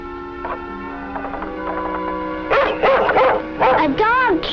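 A dog lets out a series of yelping barks and whimpers, close and loud, over a sustained tonal musical background with possible voices.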